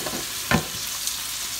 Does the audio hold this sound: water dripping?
no